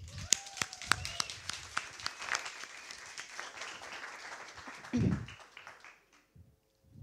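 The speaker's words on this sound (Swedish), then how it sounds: "En varm applåd till Anna Rydberg." Warm audience applause welcoming Anna Rydberg on stage at a Helsingborg young entrepreneurs event in Almedalen, a steady wash of many hands clapping for about five seconds before it fades out.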